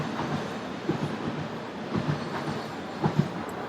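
A train rolls steadily past outdoors, a continuous broad rumble with faint rhythmic wheel clatter, heard fairly loud and unbroken for the whole stretch.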